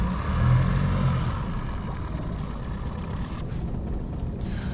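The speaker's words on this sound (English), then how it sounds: "the motor will rev up" An outboard kicker motor runs on a small fishing boat trolling for halibut on San Francisco Bay, a steady close engine drone with wind buffeting the microphone, easing off slightly partway through.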